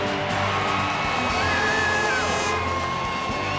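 A huge stadium crowd at Super Bowl XXXIII, Broncos against Falcons in 1998, roars and whoops steadily after an interception, a dense, loud, continuous wall of cheering.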